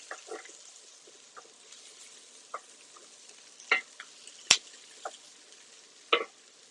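Pork belly omelette cooking in a pan, a steady low frying hiss with scattered sharp clicks and taps of a utensil against the pan, close and fairly quiet, no talking.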